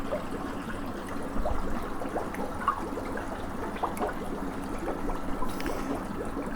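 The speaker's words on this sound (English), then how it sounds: "You can hear the sound. The water gets inside the canister." Water flowing into an Eheim Experience 250 canister filter as it is filled through the suction hose, a close, continuous trickling and gurgling with small bubbling pops and no talk.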